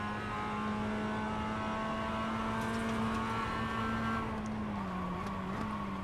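A race car engine holds a steady, loud drone through a corner at the Summit Point circuit, heard from inside the car, with the pitch shifting slightly near the end as it accelerates out.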